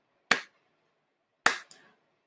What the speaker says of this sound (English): So I'm going to clap my hands